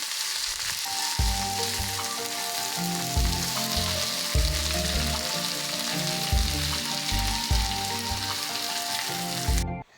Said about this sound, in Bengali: বড়ি ভাজা কমপ্লিট হয়ে গেলে ওই তেলের মধ্যেই আমরা কিছুটা গাজর ভেজে নেব